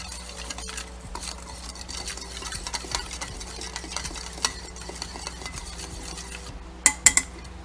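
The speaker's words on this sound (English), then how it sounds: "Mix it until the sugar is dissolved." A utensil stirs a dipping sauce in a bowl until the sugar dissolves, making soft, repeated scraping taps that end in a few sharper, louder clinks.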